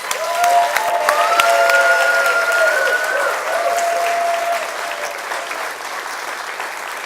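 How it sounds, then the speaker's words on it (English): A large audience gives a sustained round of applause welcoming Pastor William Hollar Jr. at a retirement event, dense clapping that carries on for several seconds with a few cheers over it before slowly thinning out. "please help me with a big round of applause and welcome Mr. Pastor William Hollar, Jr."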